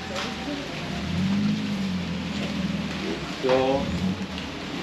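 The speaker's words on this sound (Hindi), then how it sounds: "अब बारिश आ रही है यार" Rain falls at a floating market in Bangkok, Thailand, making a steady broadband hiss throughout while a person speaks and low tones drift through the background.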